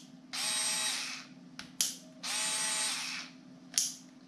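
A Teccpo 4V Max cordless screwdriver whirs in two sustained bursts at varying speed, each followed by short clicking ratchet sounds from the clutch, close and loud with no talking.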